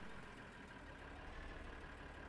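A tractor engine idles in a modded farming video game, giving a faint, steady low rumble that holds unchanged throughout with no talking.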